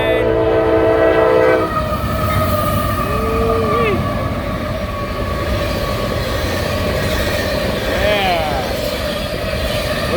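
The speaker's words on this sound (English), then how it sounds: "We got ourselves an ethanol train here" An ethanol freight train rolls past in the rain with a steady loud rumble, its horn blaring in a long chord at the start and sounding again later. Someone speaks briefly over the noise.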